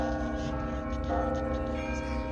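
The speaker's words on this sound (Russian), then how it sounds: "Смотрите, это настоящий колокольный звон, между прочим." Real church bells, rung by hand by a bell ringer in Kostroma, sound with sustained ringing tones that overlap continuously throughout the short clip.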